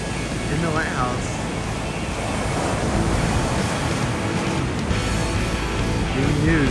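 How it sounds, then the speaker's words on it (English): Ocean waves break on an island shore in a steady, broad wash of surf, rushing and wind-blown, with brief faint chirps coming through. "It's like two waves crashing into each other."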